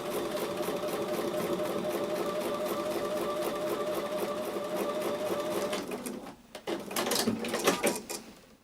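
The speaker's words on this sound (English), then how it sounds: "So I'm going to take that to the sewing machine and sew with a 1/4 inch seam." A sewing machine stitches a quarter-inch seam on a quilt block, running in a steady buzzing whir for about six seconds, then stopping and restarting in short bursts.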